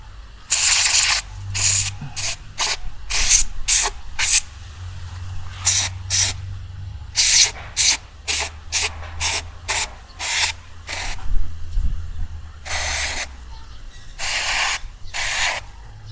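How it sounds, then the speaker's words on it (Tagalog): Repeated short bursts of an aerosol spray hissing up close on a Suzuki Burgman scooter engine, some quick and some longer, with an engine or motor humming low underneath. "Yan, i-spray ko na."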